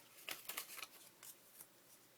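Several quick, crisp snips of scissors cutting, a rapid cluster followed by two softer cuts, close and quiet.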